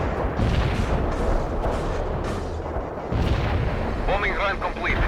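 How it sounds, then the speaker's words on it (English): Bombing-run explosions in the video game World in Conflict: a dense, continuous barrage of heavy booms and rumbling blasts throughout, with brief radio-style voice chatter and whistling tones near the end. "Bombing run completed."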